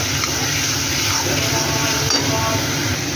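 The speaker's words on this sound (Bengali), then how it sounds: "এর মধ্যে দেখুন এবার এটাকে আমি ভালোভাবে কষাতে থাকবো" A curry with sugar is stirred and fried in a pan, giving a steady, close sizzling hiss with faint scraping and clinks.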